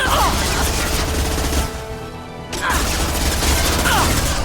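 Sustained gunfire in the video game Mass Effect 2 fills the scene, dense rapid shots and impacts that pause briefly mid-clip before resuming, with a voice speaking over the combat.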